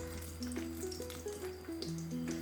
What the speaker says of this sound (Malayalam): ചൂടായ എണ്ണയിലേക്ക് പട്ട ചേർത്ത് കൊടുക്കാം.